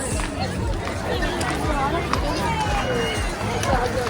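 A large Sunday crowd of visitors at the Victoria Memorial in Kolkata, packed tightly together, makes a steady, close hubbub of overlapping voices and footsteps that carries on throughout.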